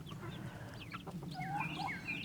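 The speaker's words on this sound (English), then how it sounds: "Uh-oh, the chickens found me." Backyard chickens cluck close by, a scatter of short rising and falling calls over a low outdoor hum, growing busier and overlapping toward the end.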